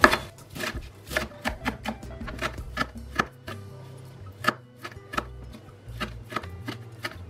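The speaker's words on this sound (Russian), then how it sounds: "Петрушку режу мелко." A knife finely chops a bunch of parsley on a board, making a rapid series of sharp, close taps in an uneven rhythm with short pauses.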